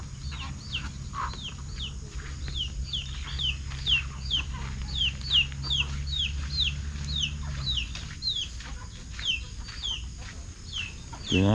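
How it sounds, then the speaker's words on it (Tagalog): A flock of large chickens clucks steadily and repeatedly at middle distance, the clucks overlapping over a low droning hum that fades out partway through. "Manok marami ah, yan oh, malalaki."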